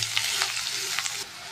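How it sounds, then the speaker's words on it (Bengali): Crushed garlic, onion and green chili fry in hot oil for a Bengali susni shak stir-fry, giving a loud, close, continuous sizzle with brief bursts of crackle, and no talking. "ভালো করে পেঁয়াজ রসুন কাঁচা লঙ্কা ভেজে নেব।"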